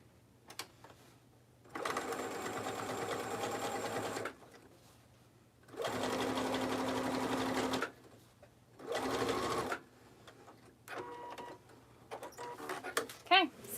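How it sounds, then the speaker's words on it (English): A sewing machine top stitching a fanny pack seam runs in three close, steady whirring bursts of about two seconds each, separated by quiet pauses, with small handling clicks at the end. "I'm top stitching 1/4 of an inch away from that fold seam"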